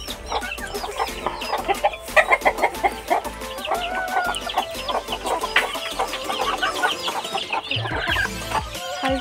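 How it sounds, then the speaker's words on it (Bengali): Desi layer hens in a poultry shed cluck and cackle in a dense, overlapping chorus that stays close and loud throughout, with no voices. "এই পাশে হচ্ছে পুরো বড় বড় মুরগিগুলো রয়েছে"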